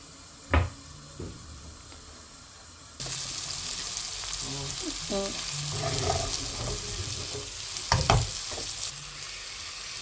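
Tomatoes sauté in a pan for a mutton intestine curry, a soft sizzle and frying hiss that swells after a few clanks, with stirring scrapes and occasional knocks, no voices.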